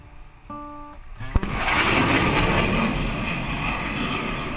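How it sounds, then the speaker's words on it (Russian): After a brief tone, a single sharp sonic boom cracks out, immediately followed by a loud, sustained supersonic jet engine roar that keeps rumbling to the end. "Поэтому мы сначала слышим хлопок, а потом уже рев двигателя."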